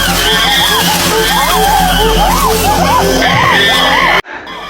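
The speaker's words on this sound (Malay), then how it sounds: "the aggressors scream and drum on buttress roots" Wild apes scream in loud, rising and falling wavering cries, several overlapping in a frantic chorus, played back from a nature documentary over a steady low rumble before the sound abruptly cuts out.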